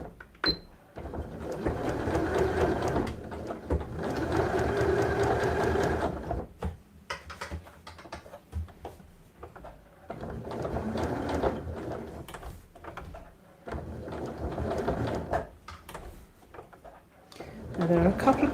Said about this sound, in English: just grab my 1/4 inch foot, turn the seam allowance down a little, and I'm going to stitch this time with the white stuff up